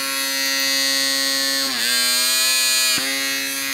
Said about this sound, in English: You can actually hear the change in the motor when it starts to work